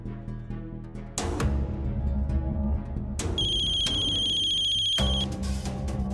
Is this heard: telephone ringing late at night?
yes